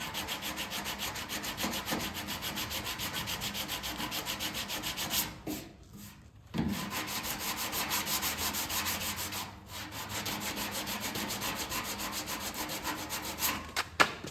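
Automotive body filler on a car panel being hand sanded with 180 grit sandpaper, a continuous rhythmic back-and-forth rasping, close and steady, pausing briefly twice before resuming.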